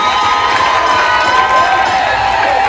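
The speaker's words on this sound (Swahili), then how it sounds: "Piga makofi!" A large crowd at a wedding celebration erupts in loud, sustained cheering and clapping, with excited shouts and whoops blending into a dense, unbroken roar close at hand.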